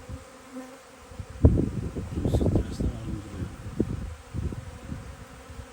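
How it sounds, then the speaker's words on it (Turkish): Bees buzz at a beekeeping apiary, a steady low hum with a louder swell in the middle, while someone speaks over it. "Şu ses. Arı sesi."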